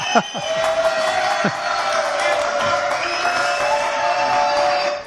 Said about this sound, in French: allez, on les applaudit déjà